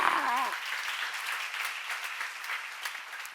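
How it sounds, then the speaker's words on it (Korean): A seminar audience applauds, a dense even patter of many hands that fades gradually over a few seconds after a short spoken phrase at the start. "박수하세요."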